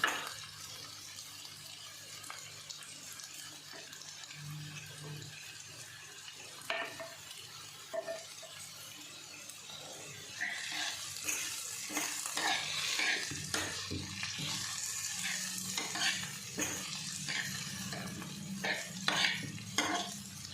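Onions and potatoes frying in a pan for Punjabi-style kadhi made without pakoras, with a steady sizzle under repeated spoon stirring and scraping, building busier toward the end; no one speaks.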